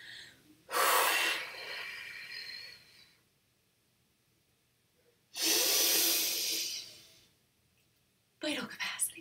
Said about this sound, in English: I exhaled as much as I could, and then I inhaled as much as I could.